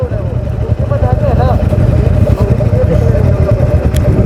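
Motorcycle engine droning steadily during a night ride on a mountain road from Sonprayag to Ukhimath near Kedarnath, with wind rumble and a rider talking over it.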